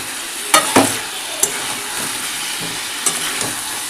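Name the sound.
stirring chicken and fried potatoes in a pan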